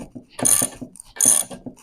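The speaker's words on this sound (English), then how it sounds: "then we'll get the big old ratchet out here" A big ratchet working on the swingarm bearings of a 1985 Harley-Davidson Softail: two bursts of bright, rapid clicking about a second apart, close and fairly loud, with softer mechanical knocks between them and no talk.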